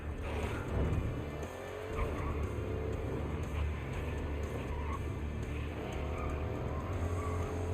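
A race car in GRID Legends turns hard through a corner, its engine droning steadily while the tires squeal and skid throughout, close and continuous.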